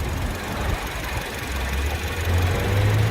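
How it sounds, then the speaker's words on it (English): A 2017 BMW 330i xDrive's 2-liter turbocharged four-cylinder idles in an open engine bay, a steady, close, low rumble with a smooth even pulse and a slight rise in bass toward the end, no talking. "this is BMW's tried and true 2-liter 4-cylinder turbocharged engine"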